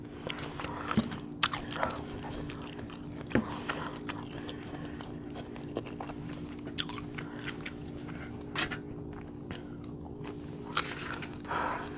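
Someone eats shrimp with black bean noodles up close, with soft chewing and wet mouth sounds broken by sharp crunchy bites at irregular intervals.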